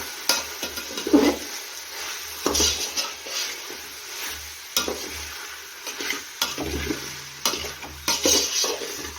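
Vegetable paneer pulao with turmeric is stirred in a pan, a spoon scraping and clinking against the metal in uneven strokes over a soft background sizzle, close and moderately loud, with no talking.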